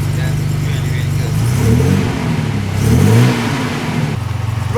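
A restored MG car engine idles with a fast, regular beat, then revs up twice in rising swells before dropping back to idle, close and loud, with voices talking over it.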